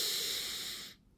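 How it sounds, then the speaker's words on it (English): A single deep inhale drawn steadily through the nose and mouth during a guided breathing exercise, loud and close, with a breathy hiss that fades out abruptly after about a second. "First, take a deep inhale"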